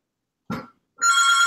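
A telephone rings loudly in a steady electronic trill during a firefighter interview, entering after a brief knock or thump and sounding close and clear.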